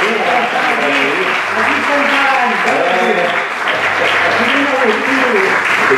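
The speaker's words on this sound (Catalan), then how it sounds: "Doncs un aplaudiment, home." Theatre audience applauding at an anniversary event for a theatre group, a steady loud wash of clapping with voices talking over it throughout.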